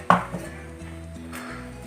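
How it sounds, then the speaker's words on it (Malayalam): A knife cuts ripe banana and the pieces drop into a mixer jar: one sharp close tap at the start, then softer faint knocks, with a steady tonal hum underneath. "നന്നായി പഴുത്ത പഴമാണ് അപ്പോൾ ഇങ്ങനെ മുറിച്ചിടാം"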